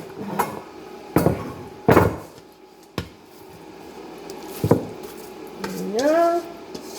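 Soaked apple oatmeal bake mixture is scraped and knocked into a baking pan, with several sharp utensil taps and clunks on the dish and a short squishy drag near the end.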